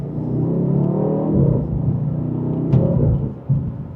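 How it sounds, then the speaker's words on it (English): BMW M850i Gran Coupe M Heritage Edition in sport mode, second gear, pulling away under acceleration: a deep, steady engine rumble heard from inside the cabin, rising slightly in pitch, with a brief click and thump near the end. "And just a minor acceleration, this will get up to speed."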